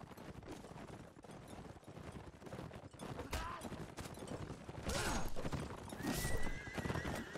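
Cavalry horses in a video game battle whinny repeatedly and gallop amid the clamor of fighting. Several loud neighs rise toward the end over constant hoofbeats and combat noise, with a commentator talking throughout.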